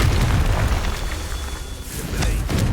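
Fiery Confringo spell blast in the Hogwarts Legacy video game, a loud, dense booming burst that rolls on through the whole moment with crackling bursts near the end and no speech over it.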